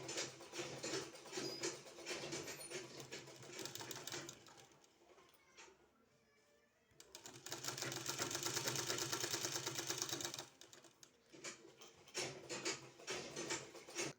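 A sewing machine runs in fast bursts as piping is stitched onto a kurti neckline, a close, rapid mechanical patter that pauses for a few seconds midway, then resumes at full speed.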